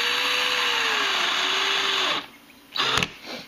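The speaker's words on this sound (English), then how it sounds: "I'm just going to drill it in right where it is." A power drill drives into plexiglass with a loud, sustained whine and a pitch that slowly sags under load, then cuts out abruptly, followed by a short burst of motor noise and a sharp click.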